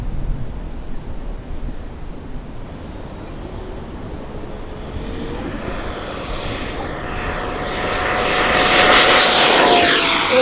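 A Freewing F-16 V2 70mm electric ducted fan RC jet on a 6S battery spools up from a low hum to a rising high-pitched whine and roars loudly as it accelerates for takeoff.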